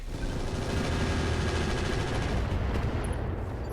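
Continuous heavy barrage of explosive fire as bombs and rockets launch in the RogueTech mech combat game, a dense rumbling roar of overlapping blasts held loud throughout with no voices.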